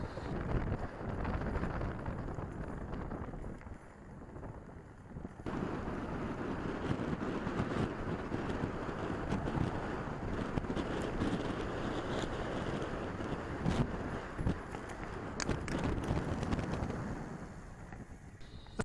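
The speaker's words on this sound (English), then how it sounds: "It was really windy." Wind gusts across open farm fields during a bike ride, buffeting the microphone with a steady, rumbling roar that barely lets up.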